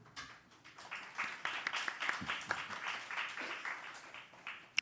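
An audience at a festival panel discussion claps politely, a dense patter of many hands rising quickly and holding steady for a few seconds before thinning out.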